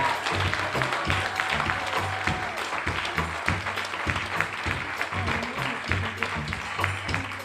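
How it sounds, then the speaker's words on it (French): Steady, dense applause from a crowd, continuous clapping at even strength throughout with no talking over it. "d'abord on applaudit ces demoiselles"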